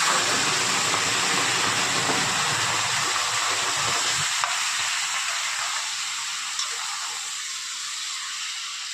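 Boiled spinach greens tipped into a hot frying pan and stirred, a loud steady hiss of frying that softens partway through as the wet leaves settle, with no talking.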